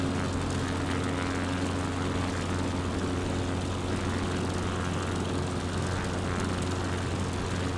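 Propeller aircraft engine in Microsoft Flight Simulator 2020 during takeoff, a steady loud drone with a strong low hum that holds constant throughout, no talking.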